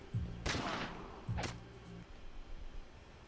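Two loud, close gunshots a second apart are fired into ballistic gel at an outdoor shooting range, each a sharp crack with a brief ringing tail, followed by quiet ambient noise.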